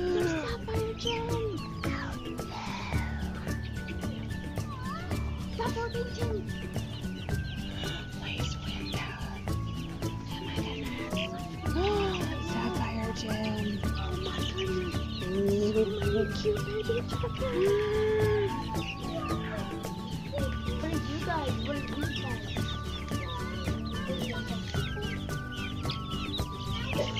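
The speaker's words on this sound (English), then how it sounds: "They're blue lace Wyandottes." Blue lace Wyandotte chickens cluck and murmur close by in a steady, soft chorus of short calls, with occasional louder squawks and faint background voices throughout.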